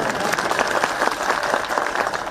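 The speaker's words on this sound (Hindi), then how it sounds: "पुरुष भाई ताली बजाओ आप लोग" A crowd at a political rally claps in a steady burst of applause, dense and fairly loud, sustained without a break.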